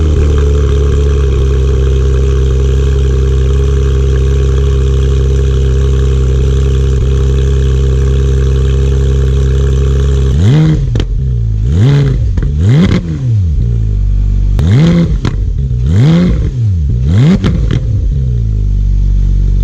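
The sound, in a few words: Porsche 911 991.1 GT3 exhaust revving to 9,000 RPM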